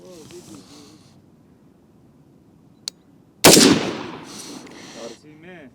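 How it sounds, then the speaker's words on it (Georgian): A single sharp, loud rifle shot from a BRG 55 chambered in 5.56x45 rings out at a target about 100 meters away, followed by a decaying echo, with someone talking quietly before and after. "ასლან ზედა სამიზნეს ვესვრი."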